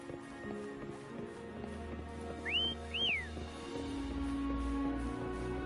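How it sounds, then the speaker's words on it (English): A two-note rising whistle calling a horse in the video game Wuthering Waves, clear and fairly close over quiet ambient music, followed by a low rumble of hoofbeats approaching. "Why don't you call Foam over? Try whistling."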